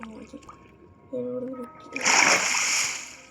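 A short electronic tone plays in Minecraft, then a splashy gush of water pours out for about a second, loud and close.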